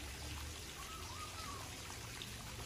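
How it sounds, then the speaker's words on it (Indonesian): Water splashes and trickles steadily at the Tlogo Muncar waterfall on Mount Merapi, Yogyakarta, heard from nearby, a continuous soft hiss with no voices. "Terdengar juga suara gemercik air terjun."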